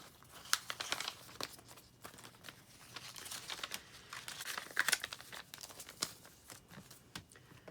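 Cash bills being stuffed into paper envelopes, with soft, close crinkling and rustling of paper in short bursts and no voices.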